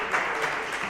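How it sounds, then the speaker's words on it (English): Audience clapping at a live comedy podcast show in Atlanta, a brief dense wash of applause filling the whole moment at steady loudness. "Don't applaud for that."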